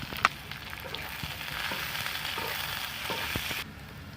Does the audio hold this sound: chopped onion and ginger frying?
yes